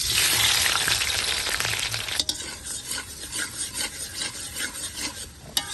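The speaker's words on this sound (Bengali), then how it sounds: "গরম কড়াইতে তেল দিয়ে দিচ্ছি তেলটা গরম হয়ে গেছে এখন দিয়ে দিচ্ছি পেঁয়াজ কুচি" Chopped onions hit hot oil in a wok with a loud, dense sizzle that settles after about two seconds into steady frying, broken by repeated scraping stirs.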